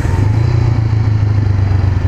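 A Honda CB500R twin with its stock exhaust runs loud and close, a steady mid-pitched engine drone with a slight clattering texture and no clear distinct pops.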